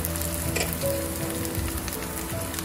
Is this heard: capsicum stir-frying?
yes